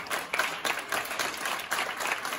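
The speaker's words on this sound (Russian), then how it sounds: "в конце еще долго звучали овации и аплодисменты" Steady applause and clapping from an audience at a chamber orchestra rock concert, a dense broadband patter lasting throughout at moderate distance with no voices.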